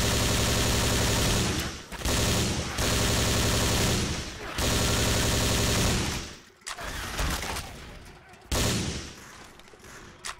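Dense bursts of automatic gunfire from the zombie shooter Left 4 Dead 2, rattling loudly in long sustained volleys with brief pauses between, the firing near and heavy throughout.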